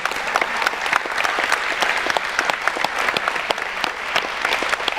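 A conference audience breaks into steady, close applause lasting several seconds, with many distinct hand claps forming a dense, even rhythm.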